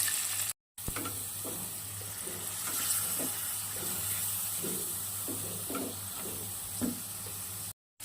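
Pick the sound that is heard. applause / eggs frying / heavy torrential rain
eggs frying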